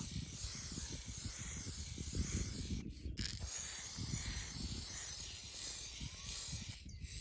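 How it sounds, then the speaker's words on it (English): High gloss black spray paint hissing from an aerosol can onto driftwood, a steady close broadband spray broken by two short pauses, with a low rumbling background underneath. "I've spray painted it black. So it's this high gloss black spray paint."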